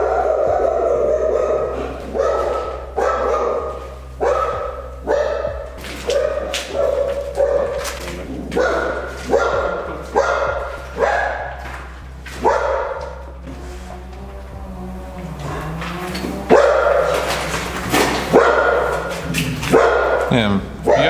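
Repeated loud dog barking in a run-down, partly demolished housing estate in Wałbrzych, a dog loose without a leash; barks come in steady bursts close by, with people talking over them.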